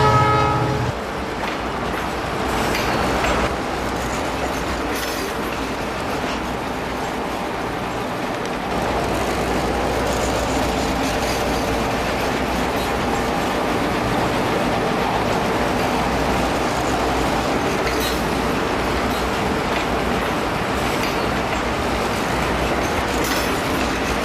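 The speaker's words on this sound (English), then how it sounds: "The manufacturers actually sample sounds from actual locomotives and they incorporate them into chips" Continuous model train locomotive sound effects sampled from real locomotives: a steady diesel engine rumble with rail clatter, a brief horn-like tone at the start, running without pause.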